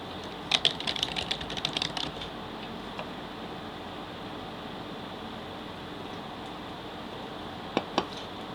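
Typing on a computer keyboard, a quick burst of light key clicks over the first two seconds, then near silence with a couple of isolated taps near the end, close and quiet.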